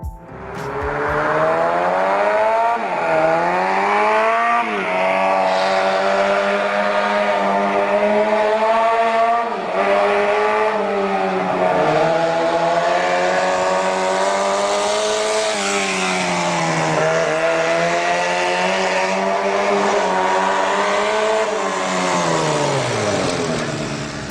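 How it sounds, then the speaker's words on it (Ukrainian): A small four-cylinder engine runs loudly and continuously, its pitch rising and falling as it revs up and eases off over and over. "Звук його маленького чотирьохциліндрового двигуна нагадував звук легендарної 750 4"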